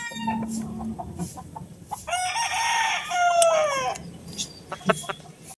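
A Sweater gamefowl rooster crows loudly and close, one long drawn-out cock-a-doodle-doo, with scattered clucks and other fowl calls around it and brief talk nearby.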